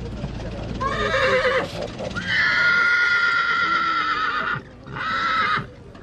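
Several horses whinny loudly at a large horse exhibition fair in Bucovina, Romania, with long high neighs repeated close by, faint hoof clops and people talking in the background.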